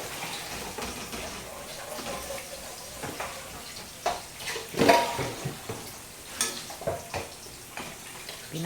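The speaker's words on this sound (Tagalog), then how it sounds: "Pinapupula muna ang bawang and then the sibuyas." Garlic and then onion sautéing in a pan for pancit bam-i, a soft, steady sizzle with scattered stirring clinks and scrapes, while people chat nearby.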